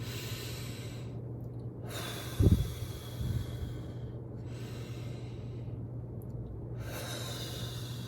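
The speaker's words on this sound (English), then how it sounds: "Do you remember how to do balloon breathing?" A child's balloon breathing exercise: a few slow, deep breaths, each a long airy inhale or exhale separated by short pauses, close and fairly soft with one sharper snort-like burst, no talking.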